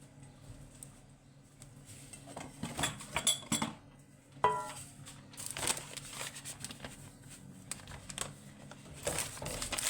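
A knife cuts through rested rokak pastry dough on a work surface, giving scattered soft taps and scrapes with small clinks of utensils, fairly quiet and close with no talking.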